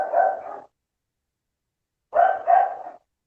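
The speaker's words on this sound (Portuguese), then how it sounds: "eu acho que o cachorrinho tá latindo" A small dog barks nearby indoors: one short bark, a pause of about a second and a half, then two quick barks in a row.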